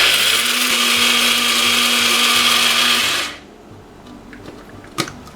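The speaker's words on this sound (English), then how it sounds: "I'm just going to grind it a little bit more before we use it for flour." A small grain mill grinds dried beans into flour with a loud, steady high-pitched whir that runs for about three seconds, then winds down and cuts off, leaving faint clicks and a sharp tap.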